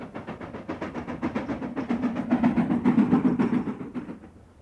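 A steam train in the Scottish Highlands chuffs along in quick, even beats that grow louder and then ease off, a close rhythmic exhaust pulse with no voices over it.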